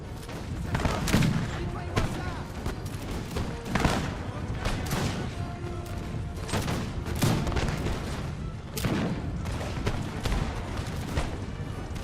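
Musket volleys and artillery fire in a Napoleonic battle in the strategy game Napoleon Total War, with dense crackling gunfire and repeated booming cannon blasts over a continuous din of battle.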